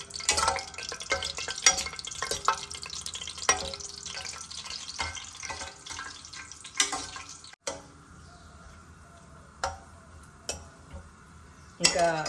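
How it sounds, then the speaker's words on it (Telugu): Cashews fry in hot oil in a pan while corn upma is being made, with a soft continuous sizzle broken by frequent clinks and scrapes of a spoon stirring against the metal. "కాజు వేస్తున్నాను అది కొంచెం వేయించుకొని తీసేద్దాం"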